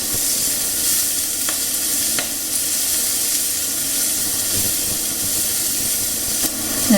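Shredded purple cabbage stir-frying in a hot pan for fried rice, a loud, dense, continuous sizzle and hiss with faint scraping of a spatula, close up and without talk.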